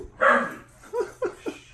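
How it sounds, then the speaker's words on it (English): A dog barks several times in the middle of a tabletop Star Wars Legion battle report, with one louder yelp near the start and then three shorter barks spaced out, fairly close and with no talk over them. "We got dogs barking, going crazy."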